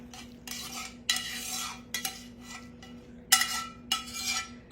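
A utensil stirs an onion casserole mixture in a dish, close scraping strokes in uneven bursts with light clinks against the dish, and no voices.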